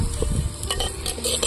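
A brief, close scraping stir of fish curry masala with fish pieces in a pan, a soft sizzle running underneath.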